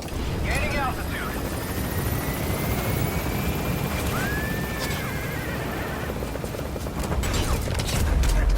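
Helicopter lifting off from a landing zone in the video game Metal Gear Solid V, a loud steady rotor roar with gunfire and a horse whinny mixed in, under a voice speaking.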